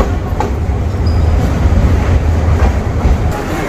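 A train rolls at Kamalapur railway station platform in Bangladesh, a loud steady low rumble with rattling wheel noise and faint squeals, no voices present.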